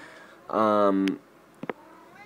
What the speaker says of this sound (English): this is my cat that's begging for attention